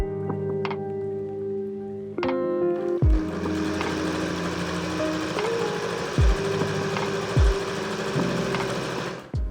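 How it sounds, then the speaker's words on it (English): A domestic sewing machine runs a zigzag stitch to finish garment seams, its fast mechanical whir stopping and restarting in several close bursts with brief pauses between runs. "I was also finishing the seams with a zigzag stitch as I went along"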